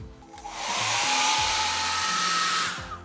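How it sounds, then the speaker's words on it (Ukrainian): A hair dryer dries a painted background: a short click, then the motor whines up into a steady loud blowing hiss for about two seconds before cutting off, close by. "Треба почекати, поки висохне наш фон, або підсушити феном."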